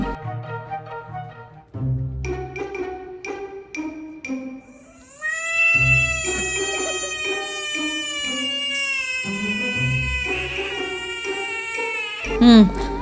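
A domestic cat meows again and again, loud and close. Short calls give way to long, drawn-out, high-pitched meows that run almost without a break.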